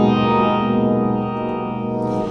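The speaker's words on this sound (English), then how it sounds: "I can add phaser, I can add an octaver." Electric guitar run through TheGigRig G2 switcher with octaver and phaser effects engaged, a thick sustained chord ringing loud and steady, swirling and doubled an octave below, alone without talk.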